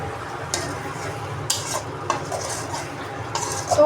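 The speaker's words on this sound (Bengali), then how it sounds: "আলু ভেজে রাখছি" Potatoes lightly frying in a pan while being stirred, with a steady soft sizzle under repeated scraping and clinking of a utensil against the pan, close by.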